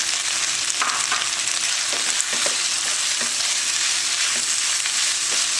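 Scrambled egg fries loudly in a pan of chicken fried rice, with a steady, dense sizzle throughout and occasional light scrapes as it is stirred in. No voices are heard.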